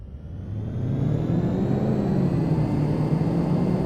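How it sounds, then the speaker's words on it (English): A Mercedes 280SL in Car Mechanic Simulator 2018 runs on a dyno, its engine note rising and holding as the rollers whir loudly underneath, a steady close mechanical drone with no speech. "You're really hearing the rollers more than the engine by the sounds of it."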